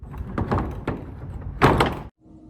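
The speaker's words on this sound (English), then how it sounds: "so I can shut the back doors up" The back doors of a lorry trailer are swung and shut in a series of close metallic clanks and thuds, ending in one loud slam followed by a quiet settle.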